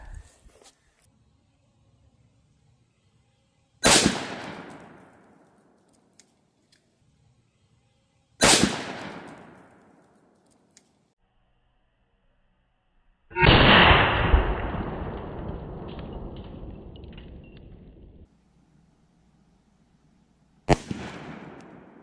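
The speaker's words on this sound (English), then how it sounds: "see what happens with the 357 mag here" A revolver firing .357 Magnum rounds at concrete blocks outdoors, four loud sharp reports spaced several seconds apart, one followed by a long rumbling echo, with silence between shots.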